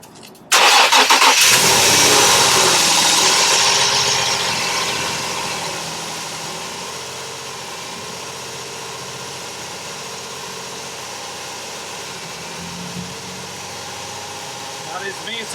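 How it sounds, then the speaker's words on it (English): A 2009 Infiniti FX35 3.5L engine, with no power to its fuel pump module, cranks and catches on externally supplied fuel pump power, roaring loudly for a few seconds before settling into a steady, lower idle hum. "so you can see this engine running"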